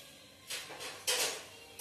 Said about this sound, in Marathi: आपण पहिलं जिरं टाकून घेऊया।